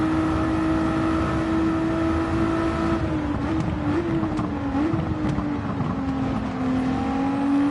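GT4 race cars, including McLaren GT4s, run down the straightaway at the Catalunya circuit in a racing game. A loud onboard engine drone holds steady, then shifts pitch as the car changes gear while rivals pass.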